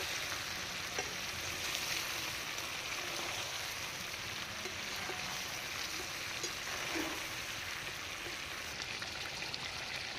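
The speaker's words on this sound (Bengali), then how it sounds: "চিকেনের মধ্যে দিয়ে দিল গুঁড়ো লঙ্কা, দিয়ে আবারও একটু কষিয়ে নিচ্ছে।" Chicken with chili powder frying and stirred in a pan, a constant close sizzle with faint scraping of the spoon, no voices.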